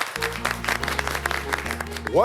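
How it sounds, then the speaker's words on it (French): A restaurant kitchen brigade applauds itself after dinner service, quick scattered claps under a steady tonal hum, with a voice speaking over them. "Vous pouvez vous applaudir."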